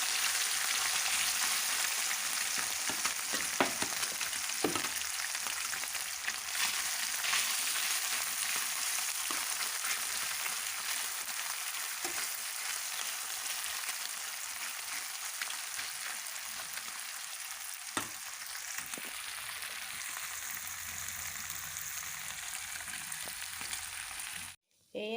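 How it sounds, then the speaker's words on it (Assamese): Small home-pond fish fry in hot oil in a tawa, giving a steady close sizzle and crackle with occasional pops that runs throughout, with no talk. "এয়া মাছখিনি ভাজি ল'লোঁ মই"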